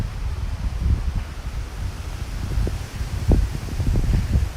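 Gusty wind in Tokyo buffets the microphone with low, rumbling bursts and a constant airy rush, close and fairly loud.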